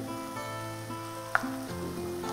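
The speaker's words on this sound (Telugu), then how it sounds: "నూనె వేడైంది కదా దీంట్లో లవంగాలు పట్ట ఇలైచి ఉల్లిపాయ ముక్కలు వేసుకోవాలి" Cloves, cinnamon, cardamom and onion pieces frying in hot oil: a steady, moderate sizzle close by, with a brief sharp clink from a utensil about midway, no voices.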